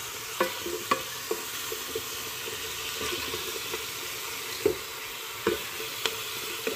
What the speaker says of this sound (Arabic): هنا كيما راكم تشوفوا هاو البصل تاعنا والكابويا نخلطوهم مليح.